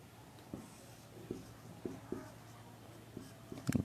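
Writing on a board during a Hindi-medium chemistry lesson on boiling point and vapour pressure: faint, scattered taps and scrapes of short strokes, a few seconds apart, with a slightly louder cluster at the end and no talking.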